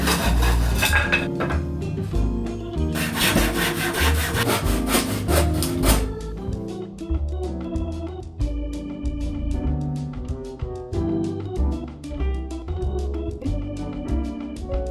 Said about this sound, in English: So I'm going to cut the lengths of wood now for the legs